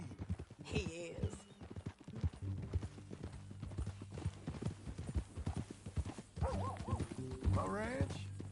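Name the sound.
horse walking, hooves clip-clopping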